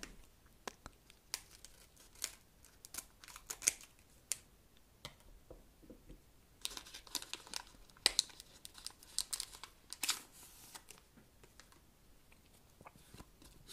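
Crinkling foil wrapper of a Pokémon card booster pack being torn open, a string of sharp rustling rips and crackles at close range, with no talking.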